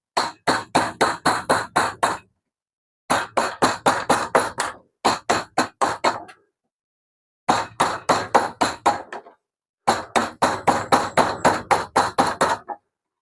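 A hammer strikes a chisel into wood while cutting a chair frame, in loud, close, rapid sharp blows grouped into five bursts of several hits each, separated by short pauses.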